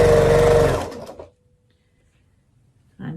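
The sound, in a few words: sewing machine piecing half square triangles together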